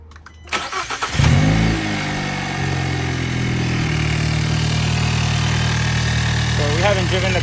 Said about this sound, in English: she's gonna start the car, and then I'll hold the phone while she does that, and we'll see how she cranks over.